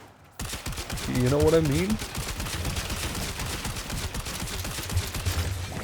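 Stug weapon fire in Warframe: a dense, rapid stream of crackling shots and bursts running almost continuously through the mission, with someone talking briefly over the start.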